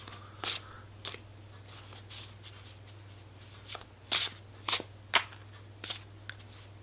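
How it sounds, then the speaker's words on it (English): Tarot cards are shuffled in short, crisp riffles and snaps, scattered irregularly against a quiet background with a low steady hum. "I am just going to give my cards a wee shuffle."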